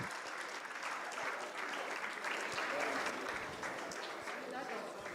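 Steady applause from an audience at a panel discussion on technology, AI and cyber security, a dense even patter of many hands clapping throughout, fairly close, with some voices mixed in.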